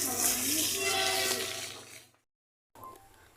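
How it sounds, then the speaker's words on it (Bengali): Water being poured over a courtyard: a close, splashing rush that fades and cuts off, then a short pause before the pouring starts again more softly. "আমি পুরো উঠানে জল দিচ্ছি"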